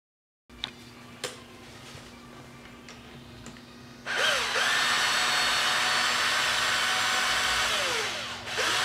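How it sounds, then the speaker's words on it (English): Power tool or impact driver working on the clutch spring bolts of a Suzuki GSXR 600 with a 10mm socket, a few faint clicks first, then a loud steady whirring drone holding for several seconds. "you're gonna take a 10mm socket, and you're gonna undo your springs, the spring bolts"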